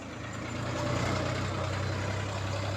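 A vehicle engine driven by a young boy as he changes gear. A steady, mid-pitched engine drone holds close and fairly faint, swelling slightly as it pulls. There is no talk.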